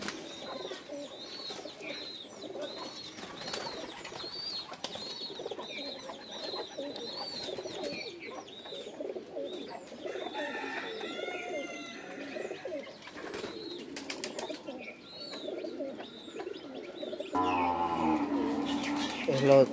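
Afsan Grizzle pigeons coo in soft, repeated burbling calls nearby, with occasional chirps and a brief flutter of wings. Someone talks over the birds throughout.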